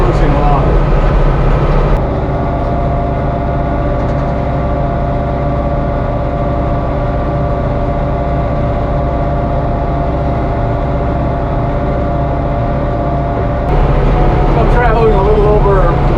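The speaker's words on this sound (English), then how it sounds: "I just love the sound of that big six-cylinder engine cruising along." A classic Oliver tractor's big six-cylinder engine cruises along at a steady pace while spreading a load of manure, giving a continuous, even drone with a slight shift at the start and end.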